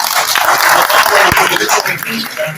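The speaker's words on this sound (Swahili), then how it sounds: "Tupigie makofi waliotufadhili." A crowd at a public gathering breaks into a short, dense burst of applause, clapping thick and loud with a few voices mixed in.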